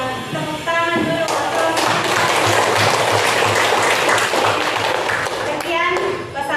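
A class applauds at the end of a school coaching session, a dense burst of clapping lasting several seconds, with voices before and after it.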